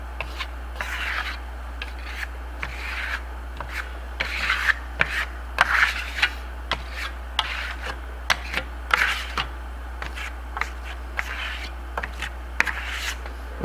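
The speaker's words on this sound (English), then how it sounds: "Get some put on your trowel. I'm going to trowel it on." A trowel spreads paste wax sealer over Venetian plaster with repeated scraping, rubbing strokes, close and moderately loud over a constant low hum, without talk.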